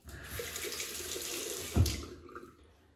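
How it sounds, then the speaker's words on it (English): A cold-water tap runs steadily into a sink for rinsing during a shave. The flow is a continuous close splash with one brief louder gush before it tapers off. "So we'll rinse off now, cold water."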